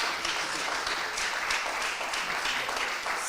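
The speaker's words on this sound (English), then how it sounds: "How about a round of applause for Dan?" A forum audience gives a short burst of steady clapping lasting a few seconds, fairly loud and close, with no voices on top.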